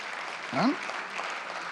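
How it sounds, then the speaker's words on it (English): Applause for a graduating program cohort at a college convocation, a moderate wash of clapping from a crowd with a brief voice breaking through. "you can give yourselves a big round of applause, that third cohort"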